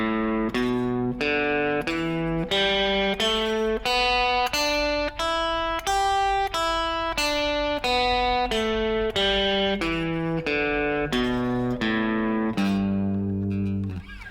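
Guitar plays a slow beginner scale, single notes climbing one by one then descending back down, each note clear and sustained, alone with no talking.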